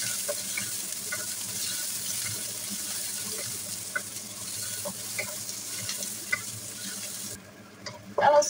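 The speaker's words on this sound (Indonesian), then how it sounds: "Kemudian tumis jahe, bawang merah dan bawang putihnya. Kita tumis sampai harum." Ginger, shallots and garlic frying in oil for a Hong Kong–style beef tripe and white radish dish, a steady bright sizzle with scattered stirring scrapes that drops away near the end before a couple of louder clanks.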